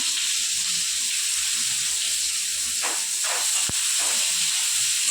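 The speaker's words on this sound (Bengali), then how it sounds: "পেঁয়াজটা একটু ভাজা ভাজা করে নেব" Onions with garlic frying in hot oil in a kadai give a steady, loud hiss of sizzling, continuous throughout, with a few brief clinks partway through and no talking.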